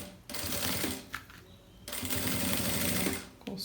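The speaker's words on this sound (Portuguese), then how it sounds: "Alinhei aqui o meu fole, vou passar a costura, faço o retrocesso no início e depois no final." A sewing machine runs in two fast, buzzing bursts while stitching a seam on a fabric bellows panel of a travel toiletry organizer, with a brief pause between runs for a backstitch, close and clear.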